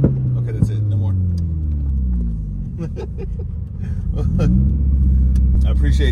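Straight-piped Subaru WRX with the whole exhaust removed, a loud rumbling idle that dips after an early blip and then swells into a heavier, sustained drone.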